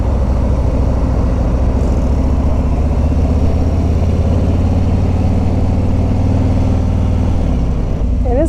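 Idling engine of a Harley-Davidson Fat Bob or Low Rider ST motorcycle, a loud, steady low rumble running throughout at close range.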